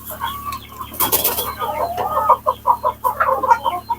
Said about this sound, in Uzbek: Ichida mana bunaqa oq katta tovuqlarimiz ham bor, mana xirozlari.